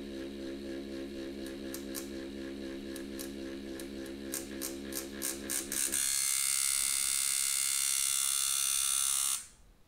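A Pope Irons T3X tattoo machine runs with a steady close electric buzz, marked by rapid ticking pulses for several seconds, then a brighter, louder whine that holds steady before cutting off.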